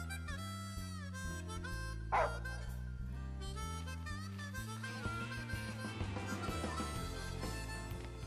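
Umbra, a dog in the video game Final Fantasy XV, gives a single short bark that rises briefly over steady, sustained in-game music.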